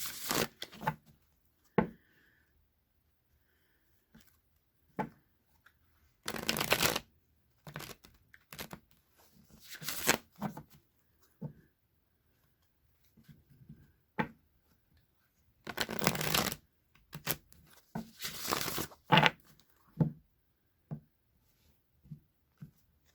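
A True Crime Tarot deck being shuffled in bursts, crisp riffling and papery rustles separated by quiet pauses and occasional taps, close and clear with no talking.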